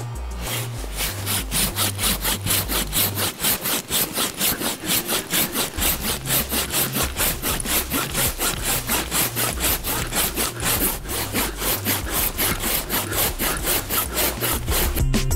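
Survival hand saw cutting through a thick piece of wood, with fast, regular back-and-forth strokes rasping loudly and close, a steady driving rhythm that continues throughout with no talking.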